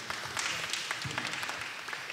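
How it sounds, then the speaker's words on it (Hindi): Church gathering applauding a priest at a welcome program, a dense, even patter of many hands clapping that fills the room throughout. "तालियों द्वारा धन्यवाद देंगे।"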